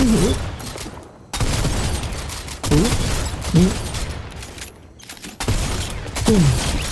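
Shotgun fire in a Fortnite match: several loud, sharp blasts at irregular intervals, spaced a second or so apart, with game sounds between the shots.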